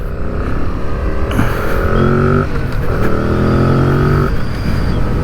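A 2025 Yamaha MT-07 motorcycle engine runs steadily while riding, its tone rising and falling through a few shifts of revs, loud and close throughout with no talking.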